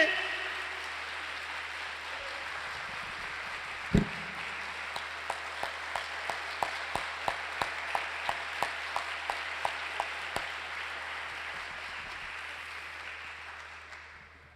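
Church congregation applauding, a soft steady wash of clapping from a distant crowd with a run of sharper regular claps emerging partway through, a single loud knock early on.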